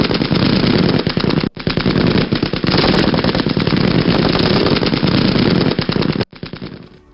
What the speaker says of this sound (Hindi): रूसी सेना पर लगातार फायरिंग हुई।